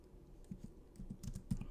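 Someone types on a keyboard in short, quiet bursts of key taps that grow a bit busier toward the end, with no voices heard.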